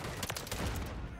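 Gunfire in a shooter video game, a quick run of close, sharp shots with faint game noise underneath.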